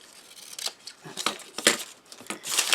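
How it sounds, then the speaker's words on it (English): Scissors snip and trim craft paper in a run of short, crisp cuts at close range, with soft papery rustling between the snips. "Cut it a little bit longer than I need to, and I can trim it then."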